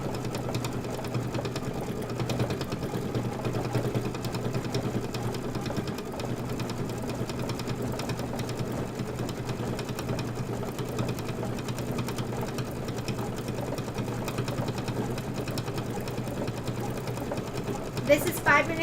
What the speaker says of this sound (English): This is 5 minutes of stitching.